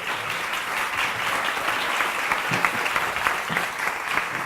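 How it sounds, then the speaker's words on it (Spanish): An audience applauds a speaker after a lecture, dense clapping that holds at an even level for several seconds with no voices over it. "Un aplauso para María Isabel, por favor."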